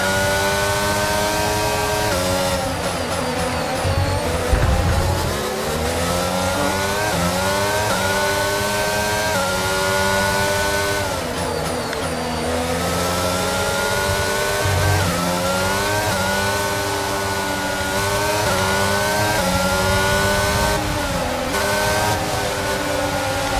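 Formula 1 car engine in the F1 22 racing game at the Azerbaijan Grand Prix, with an MGU-H problem and a risk of overheating: a loud, continuous high-pitched whine that repeatedly climbs and drops in pitch through gear changes, with no talk.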